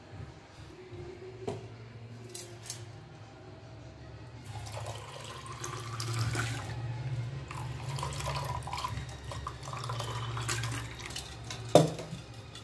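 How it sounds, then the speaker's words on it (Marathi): Cold water poured from a container into raw mango pulp in a kitchen for aam panha, a steady trickling splash over a low hum, with a few dish and utensil clinks and one sharp knock near the end. "माझ्याकडे बर्फ नव्हता, गार पाणी आहे ते टाकणार आहे."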